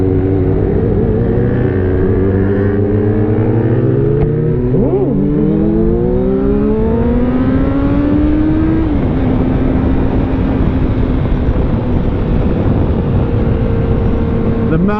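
A car accelerates hard on sighting laps at the Jurby Motordrome, its engine note climbing through repeated rising sweeps with gear changes, loud and close throughout with a steady rush of wind and road noise.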